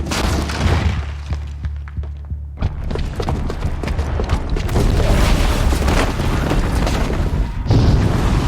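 A booby-trapped bomb going off in Horizon Zero Dawn, a sustained rumbling blast with crashing debris and heavy low booms, loud and close throughout.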